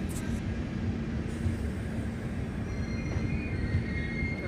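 A train on the Bangalore to Mangalore line through the monsoon-season Western Ghats rolls along with a continuous close rumble, a sustained wheel squeal, and faint clicking over the rails, with no talking.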